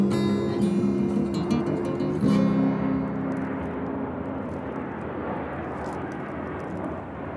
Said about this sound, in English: We got the plane at the end there.